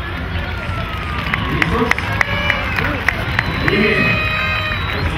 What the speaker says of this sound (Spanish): Vamos a despedir con un fuerte aplauso